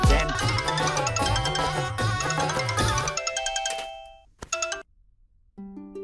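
A phone ringtone plays a bright, loud looping melody, then breaks into scattered short chimes and tones before fading out in bursts.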